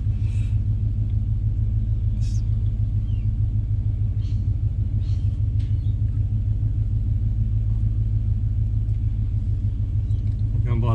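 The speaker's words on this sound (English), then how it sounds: "Old car at idle, it's putting in 37 amps." An old car engine idles at a camper trailer setup, a steady low rumbling drone with a fast, even pulse, continuous and close throughout, with faint clicks on top.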